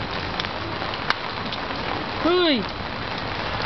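Rain falls steadily on a surface outdoors as a broad, even hiss throughout, with a short shout and a brief rising whistle-like voice sound partway through.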